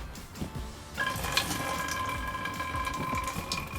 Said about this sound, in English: I'm gonna dump some water.